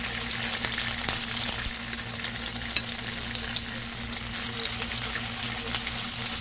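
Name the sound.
food frying in a pan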